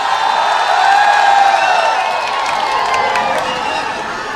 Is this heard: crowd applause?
yes